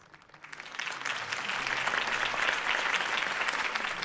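Crowd applause in Batman: The Telltale Series, Episode 1, after a campaign speech, clapping that swells in quickly from quiet and holds as dense, steady applause from a sizable audience.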